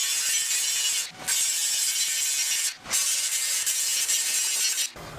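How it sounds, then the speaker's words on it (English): A grinder smooths metal welds on a homemade pool fence railing, a loud, continuous abrasive rasp broken by two brief pauses as the tool lifts off. "Alright, just going to grind everything smooth now."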